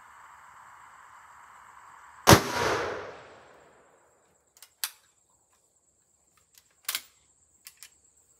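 A single loud .357 Magnum shot fires a Hornady 110 grain XTP bullet into a gel block, giving a sharp crack with a decaying tail, followed by several small clicks and taps.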